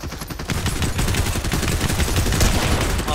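Rapid pistol shots in the Fortnite video game crack out in a dense, continuous barrage for about three seconds, loud and close, with no voices over them.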